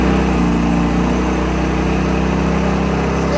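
Engine of a Ford Courier truck straining under load, a loud, close, continuous rough drone with a steady low pulse and no letup.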